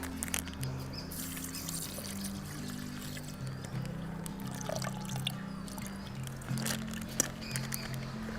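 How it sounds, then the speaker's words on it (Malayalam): Milk is poured into a sweet payasam mixture that already holds condensed milk. The liquid trickles steadily in a quiet kitchen, with light splashing over a low, constant background hum. "പാലൊഴിച്ചിട്ട് ഒന്ന് നന്നായിട്ട് ഇളക്കാം."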